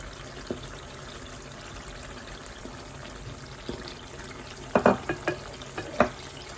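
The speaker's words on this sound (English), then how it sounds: "Now add your tomato puree and fry till that starts to change colour too." Tomato puree frying in plenty of oil for a pepper sauce with dried anchovies, a soft steady sizzle throughout, then a short cluster of sharp spoon scrapes and clinks near the end.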